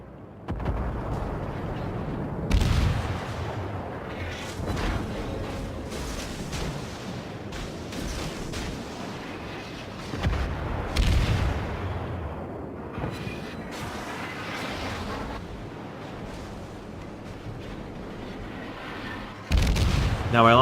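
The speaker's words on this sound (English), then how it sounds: "Both gunfire and torpedo fire." Naval battle in World of Warships with a destroyer firing guns and torpedoes: repeated booming shots and explosions at irregular intervals, heavy bursts over a rumbling backdrop, with occasional voice.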